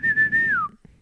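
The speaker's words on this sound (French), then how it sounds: "le sifflement de 30 millions d'amis" A single clear whistled note holds steady and then slides downward, briefly played from a phone: the opening whistle of the French TV show 30 Millions d'Amis, close and alone.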